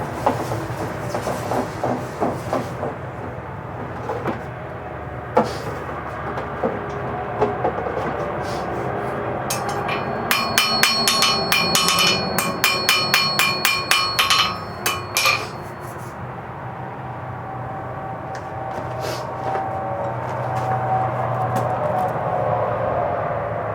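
Steel nails heat-forged on an anvil, with a run of sharp, ringing hammer blows clustered in the middle and scattered taps before and after, over a steady background hum of forge or shop noise.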